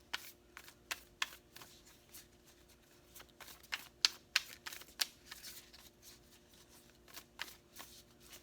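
Oracle cards are shuffled by hand without bending in a series of quick riffling snaps and flutters, irregular bursts close up in a quiet room.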